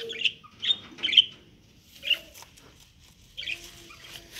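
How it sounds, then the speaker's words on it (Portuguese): A cockatiel gives several short, shrill calls and chirps, spaced irregularly with quiet gaps between, fairly close. "Olha, galera, calopsita."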